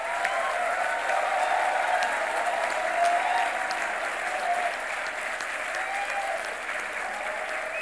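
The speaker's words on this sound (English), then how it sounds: "Can we have a round of applause for them?" A full hall at a university convocation ceremony applauds the teachers, a long, steady wash of clapping from many hands with a faint murmur of the crowd beneath.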